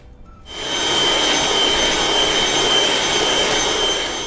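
An electric mixer beats whipping cream with sugar for a homemade Black Forest cake. It starts abruptly after a brief quiet moment and then holds a loud, steady, even whir with no talking.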